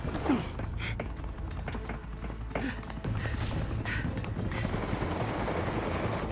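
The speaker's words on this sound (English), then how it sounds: "Who's the helicopter waiting for?" Helicopter in the video game Batman: The Telltale Series, its rotor thumping steadily and close throughout, joined by rushing wind and scattered game effects.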